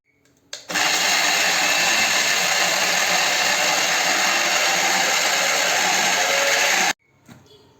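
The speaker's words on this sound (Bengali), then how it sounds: "নিয়ে নিলাম মিক্সির মধ্যে নিয়ে নিলাম এবার এটা বেটে নেবো" An electric mixer grinder whirs loudly and steadily for about six seconds while grinding a spice paste for a Bengali pabda fish curry. Its motor starts abruptly and then cuts off sharply.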